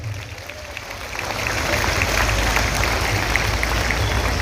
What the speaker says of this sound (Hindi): ज़ीनतुन्निसा साहिबा के लिए तालियां हो जाए